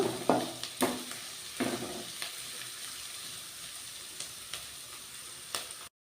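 Mustard seeds and chopped onions frying in hot oil for an egg curry tempering: a steady, close sizzle with a few sharp pops and crackles early on, then a softer continuous fizz.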